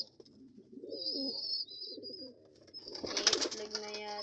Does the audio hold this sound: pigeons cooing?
yes